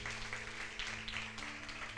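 A church congregation applauds in a steady wash of clapping with a constant low hum underneath, fairly faint and continuous.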